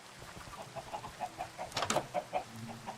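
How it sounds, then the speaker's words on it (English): Minecraft chickens cluck in short, evenly spaced bursts, with a denser flurry of clucks near the middle, fairly close and clear over quiet game background. "See if we can get a few more chickens in there."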